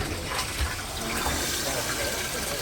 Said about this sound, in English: Water. Going in.